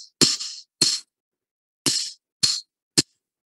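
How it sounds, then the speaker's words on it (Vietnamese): A Vietnamese bamboo clapper, the thanh phách, struck by a teacher in a music lesson: five crisp, woody clacks spaced irregularly, fairly close and clear against silence. "Dạ thầy đang đánh thanh phách ạ."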